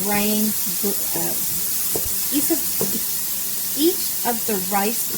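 Rice kernels toasting in a pan for seafood saffron risotto: a steady broad sizzle and hiss runs throughout, with a voice talking intermittently over it.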